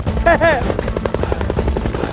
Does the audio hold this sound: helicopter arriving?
yes